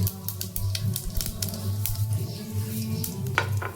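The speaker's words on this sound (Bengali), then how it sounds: "তেল গরম হয়ে গিয়েছে, আমি দিয়ে দিচ্ছি শুকনো লঙ্কা, তেজপাতা" Dried red chillies and bay leaves sizzle in hot mustard oil in a pan, a close, steady crackling fry with soft clinks of a utensil against the pan.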